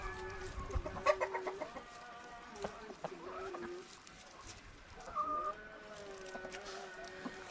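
Backyard chickens cluck and cackle up close in a steady stream of short repeated calls, with faint background noise and a little distant talk.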